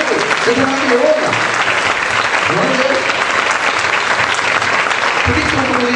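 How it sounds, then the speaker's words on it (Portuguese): Church congregation applauding the Lord, loud sustained clapping throughout with voices talking and calling out over it. "Irmãos, aplaudam o Senhor."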